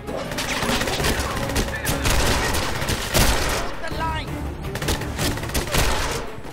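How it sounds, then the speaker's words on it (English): Rapid gunfire in the video game 007 Legends: a dense, loud fusillade of shots and bursts that fills the whole stretch, with crashes and impacts mixed in. "I just shoot people's legs."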